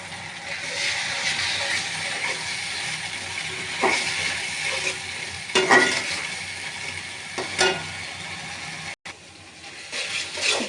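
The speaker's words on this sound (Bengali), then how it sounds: "আমি একটু পানি দিয়ে মশলাটা কষিয়ে নেব।" Masala fries with a splash of water for a rural rooster curry cooked in mustard oil, steady hiss and sizzle broken by occasional spatula scrapes and knocks.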